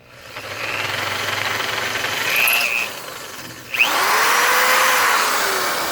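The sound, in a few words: power drill enlarging a hole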